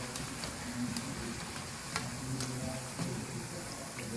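Pakoras for Punjabi kadhi pakora frying in hot oil, a steady close sizzle with scattered crackles and soft stirring clinks, no talking.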